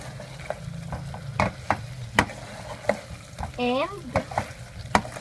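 Braised baby potatoes with sesame seeds being stirred in a pan on a portable gas stove: a soft sizzle under repeated sharp scraping strokes of the spatula, with a brief squeak partway through.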